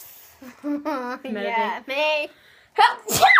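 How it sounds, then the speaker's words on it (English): During a Christmas-themed game of 'who's most likely to', people talk and then one person lets out a loud, sharp sneeze near the end. "Achoo."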